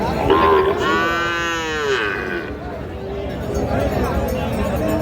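Sahiwal bull calves at a rural cattle market, one giving a loud, close drawn-out moo early on, with market chatter and crowd murmur running underneath throughout.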